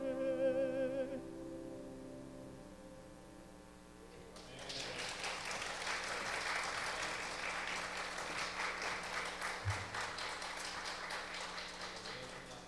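A church congregation breaks into clapping after sustained organ or keyboard tones fade, the applause building into a dense, steady patter that continues for several seconds at moderate distance.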